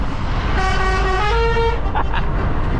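A truck's air horn sounds a sustained multi-tone honk of a little over a second. It is loud and close, over heavy road rumble from inside a moving vehicle.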